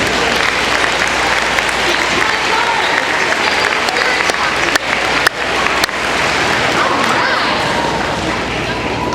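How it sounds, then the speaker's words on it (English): A school audience at a Grandparents Day event applauds steadily, and the dense clapping fills the room at full volume from start to end. "Give them a round of applause."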